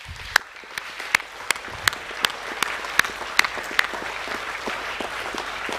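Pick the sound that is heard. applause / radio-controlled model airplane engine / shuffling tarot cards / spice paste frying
applause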